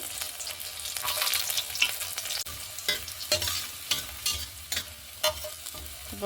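Dried chilies, whole cumin and chopped garlic frying in hot oil for Bengali arhar dal, a steady close sizzle broken by repeated scraping stirs of a spoon in the pan.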